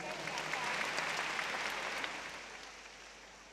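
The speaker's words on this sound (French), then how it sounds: "Applaudissez pour la paix en Côte d'Ivoire." Faint, distant crowd applause at a Côte d'Ivoire stage show, dense steady clapping with a few cheers that tapers off after about two seconds.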